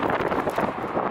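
Strong, hot wind blows outdoors in Kazakhstan and buffets the microphone with a loud, steady, rushing roar that has no pauses.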